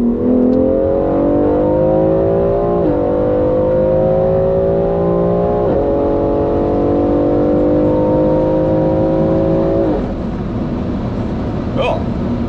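A 750-horsepower BMW X3 M Competition accelerates hard on a high-speed run toward 200 km/h, its engine roaring loudly and continuously with rising revs that dip at each of several gear shifts.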